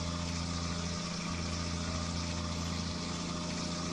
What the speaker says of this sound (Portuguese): Quem não gosta de ver o motor runindo, né?